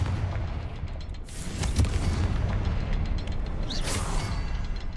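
Confringo spell blasts in Hogwarts Legacy, a dense rumbling explosive roar with bursts and crackling flares layered over continuous game ambience, no speech.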